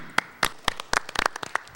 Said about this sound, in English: We're clapping for ourselves, Mike.